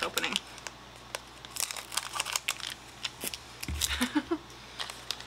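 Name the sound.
scissors cutting open a Pokemon card pack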